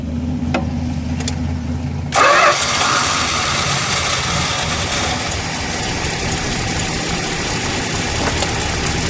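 A 1970 Plymouth Road Runner with a 383 V8 idles with a low, throaty burble, then a sudden louder surge of exhaust roar starts about two seconds in and settles into a steady, rumbling idle close by.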